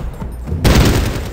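Gunfire from the video game Medal of Honor Warfighter, a sudden loud burst of shots kicking in partway through after a quieter stretch, dense and booming with a rumbling tail.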